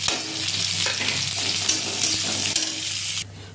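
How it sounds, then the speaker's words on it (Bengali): Chopped onion hits hot oil in a pan over browned garlic and sends up a loud, close, continuous sizzle with a few stirring knocks, before the sizzle suddenly drops to a quieter hiss at the end. "এবার বড় একখানা পেঁয়াজ অ্যাড করলাম।"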